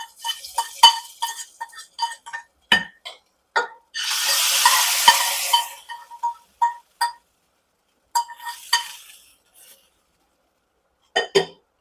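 Cashews frying until golden in a pan for coconut milk kozhukattai, with a brief broadband sizzle burst amid repeated clinks and scrapes of a spoon stirring, close and fairly loud, no talking.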